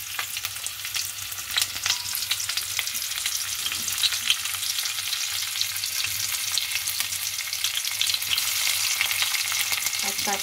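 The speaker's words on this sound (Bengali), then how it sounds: "এবার আমি এতে কিছুটা পেঁয়াজের স্লাইস পেঁয়াজের কুচো দেব।" Onion slices fry in a pan for chow mein, giving a loud, continuous hiss and crackle throughout with no one speaking.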